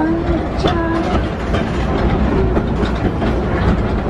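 A Six Flags roller coaster train rumbles and clatters loudly along its track in a steady, dense roar with rhythmic clacking close by.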